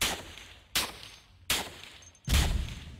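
Turret rounds fire in Cataclysm DDA, four loud sharp reports spaced roughly evenly apart, each cracking sharply and decaying briefly, with the last one heavier and longer.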